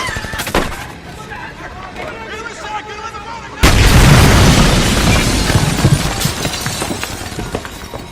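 A loud explosion erupts on a movie set mid-scene, a sudden broadband blast that cuts in abruptly and keeps roaring with crackling debris after a stretch of background talk.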